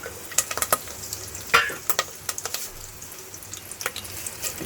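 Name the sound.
curry leaves, chili, garlic frying in ghee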